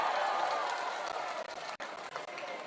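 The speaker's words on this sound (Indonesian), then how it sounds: "Boleh tepuk tangan untuk Bung Ismail Bahtiar." Outdoor political rally crowd in Bone clapping and cheering for a national team spokesman and parliamentary candidate, a dense, continuous burst of applause that thins slightly near the end.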